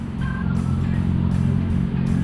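A motorcycle engine drones steadily nearby, a low rumbling hum with slight revving, loud and continuous for a couple of seconds.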